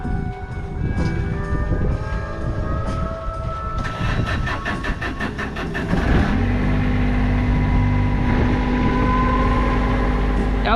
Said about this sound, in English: So this is how we go about turning on the engine.